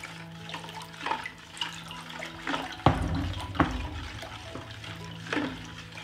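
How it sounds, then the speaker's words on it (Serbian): Cold salted water is stirred in a large bowl, producing sloshing and swirling splashes with several sharper knocks against the bowl, close and moderately loud with no talking. "I sad ćemo to promešati."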